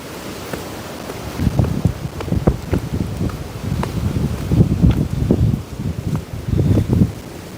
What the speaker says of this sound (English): do you guys actually hear the wind going like?